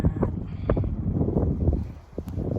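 Wind gusts during snowfall in the early morning, rumbling and buffeting the microphone in uneven, loud waves with a brief lull near the end.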